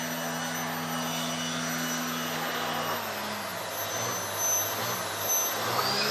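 A Vax Air Lift Steerable vacuum cleaner runs with its air-powered brushes spinning fast, giving a steady, high whine and whoosh whose tone drops slightly partway through, with no voices over it.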